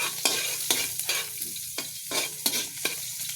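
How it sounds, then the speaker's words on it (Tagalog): Meat sautés with onion and ginger over a wood fire in a provincial kitchen, making a soft sizzle broken by about eight regular scraping stirs of a spatula against the pan. "Igisa muna natin"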